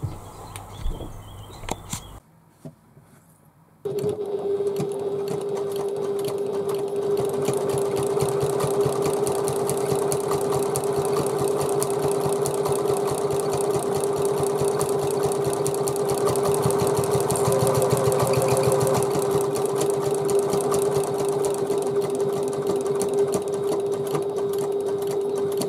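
After a short quiet start, a sewing machine stitches a handbag panel, its rapid motor hum running evenly and close for over twenty seconds with a steady mechanical whir.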